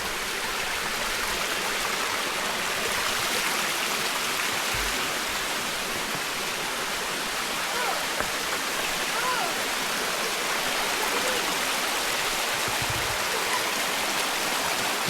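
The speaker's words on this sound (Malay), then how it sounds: "Dah jumpa sungai kecil." Steady rushing water of a small stream on a hiking trail near Gunung Berembun, Negeri Sembilan, Malaysia, flows continuously and evenly, a broad hiss-like babble with no pauses, fairly close.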